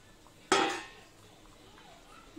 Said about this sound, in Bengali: ঝোলটা ফুটে উঠেছে, এবার আমি মাছগুলো এক এক করে দিয়ে দেবো